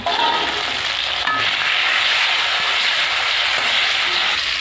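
Potatoes and green chillies fry in a pan for a Bengali fish curry with gourd greens, giving a steady, loud, close sizzle that holds without a break, with a soft stirring scrape partway through.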